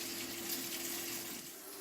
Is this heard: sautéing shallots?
no